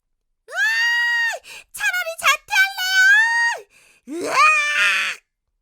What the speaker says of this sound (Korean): 여학생들의 입에선 일제히 비명이 터져 나왔다